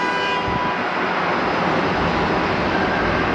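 Jet airliner touching down at DFW airport, a loud, steady broadband engine roar that stays close and even for a few seconds.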